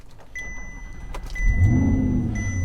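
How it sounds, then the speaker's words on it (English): A 2014 Audi R8 4.2 Quattro is started with a turnkey: soft dashboard chimes ring first, then the engine cranks and catches, settling into a loud, steady idle close to the microphone. "Fires right up, no issues."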